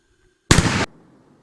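A single short, loud bang with a muffled, boomy edge, followed by a brief rattling fade: a firecracker exploding under a pot.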